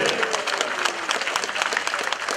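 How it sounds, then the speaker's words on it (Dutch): An audience at a cycling race applauds the riders, dense continuous clapping from a crowd, fairly close and steady throughout with no other sound standing out. "geef de dames hier de deelnemers een formidabel applaus"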